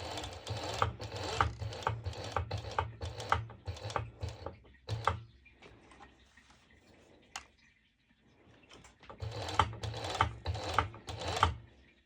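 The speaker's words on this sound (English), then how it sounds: "And now I'm going to my serger and I will start from the end. I will start serging" A serger overlock machine stitches stretchy mesh fabric, running in fast rhythmic bursts near and loud, pausing in the middle before starting up again for a final run.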